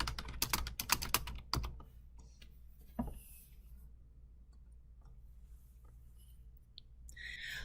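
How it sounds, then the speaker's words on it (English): Typing on a student device keyboard, a quick burst of rapid key taps at the start, then a few sparse isolated taps against a quiet background. "As I type on the student device, nothing shows up on the teacher device until I hit submit."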